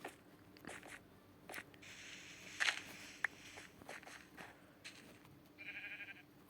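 Game sheep bleat in Minecraft, a few short synthetic cries scattered among soft footsteps and background game sounds, fairly faint and with no speech.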